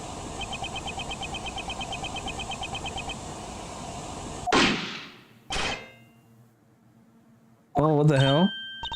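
In the Ace Attorney Investigations 2 video game, a recording plays a single loud, sharp gunshot crack over a background of electronic tones, followed by a second thud, quiet, and then a musical stinger.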